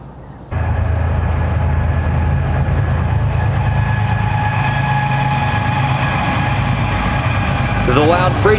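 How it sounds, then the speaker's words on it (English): A loud freight train passes near the Wigwam Motel in Holbrook, Arizona on Route 66. A heavy, continuous rumble starts abruptly and holds close and steady, with horn-like tones rising near the end. "The loud freight trains do not cease day or night."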